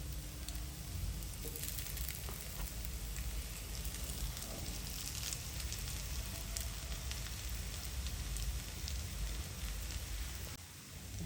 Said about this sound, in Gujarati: તો હવે આપણે એને તળી લઈશું